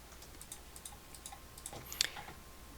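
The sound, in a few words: computer mouse clicking while selecting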